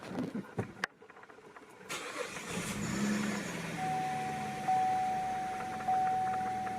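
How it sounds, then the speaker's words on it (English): A Cadillac SRX 3.0/3.6 V6 cranks and catches, then settles into a steady idle nearby, with a thin electronic chime tone sounding over the engine hum. "let's start it up"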